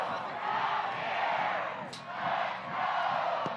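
A sold-out arena crowd roars in the final seconds of a West Virginia vs. Vermont college basketball game. The sustained cheering rises and falls in waves, loud and dense throughout.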